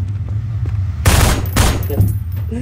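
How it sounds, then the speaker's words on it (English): Bursts of rapid gunfire in a prop hunt video game, two or three loud clustered volleys over a steady low hum, close and sharp. "I hear shots"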